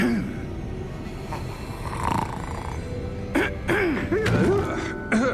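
A sleeping character in Hogwarts Legacy snores with rough, breathy rasps, then a voice speaks over the snoring in the closing seconds.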